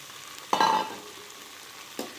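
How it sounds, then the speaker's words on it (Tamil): Cluster beans dropped into hot oil in a pan, a sudden loud burst of sizzling that fades to a steady crackle, followed by one short scrape of stirring, no voices. "இப்போ இந்த சீனி அவரங்காயை இதில் போட்டுக்குவோம்"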